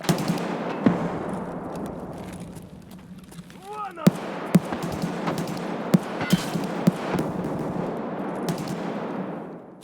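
Gunfire in the video game Escape From Tarkov, a string of sharp distant-to-mid-range shots scattered through the second half, with an earlier louder report, over a steady ambient game hum.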